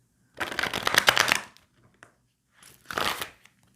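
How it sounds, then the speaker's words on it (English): Tarot cards are shuffled close to a microphone in two crisp riffling bursts, the first longer and the second brief, separated by near silence. "I'm shuffling and it's about near the mic."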